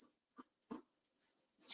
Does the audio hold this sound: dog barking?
yes